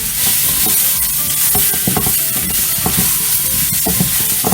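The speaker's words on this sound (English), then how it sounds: "it's just to warm the sausage up" Chopped jarred sausage warming in a pan, with loud close stirring scrapes and knocks over a constant sizzle, irregular in rhythm, no voices.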